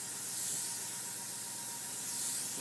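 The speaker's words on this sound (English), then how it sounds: "Just working on my technique with the airbrush" An airbrush sprays AutoAir paint in a steady, continuous hiss, quiet and unbroken with no talking.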